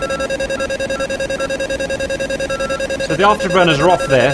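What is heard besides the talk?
electronic beeping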